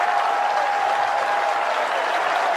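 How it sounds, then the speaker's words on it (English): Crowd applause at an AFL match between Melbourne and the Western Bulldogs as Spargo comes off the ground, a continuous wash of clapping from Melbourne fans filling the stadium, steady and fairly loud. "And applause coming for Spargo."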